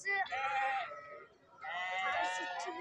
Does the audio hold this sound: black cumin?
no